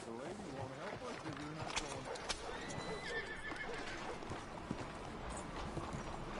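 A horse in the Red Dead video game whinnies and clip-clops through a busy, noisy game scene, the neigh rising briefly in the middle while hooves and other ambient sounds fill the background.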